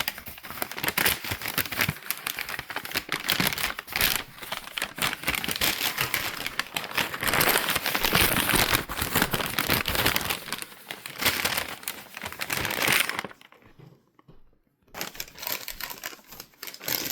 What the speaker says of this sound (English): And then I'm just going to keep them in this paper bag.